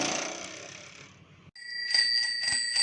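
A small bell is struck by its inner hammer and rings out in a bright, sustained metallic tone. A few quick repeated strikes follow a short pause.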